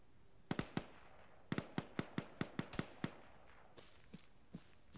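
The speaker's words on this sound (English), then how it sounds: "There's something behind us shooting, but I can't see it." Gunfire in the Arma military video game, heard as several bursts of sharp, close cracking shots in quick succession, followed by a few fainter single shots. There is no talking.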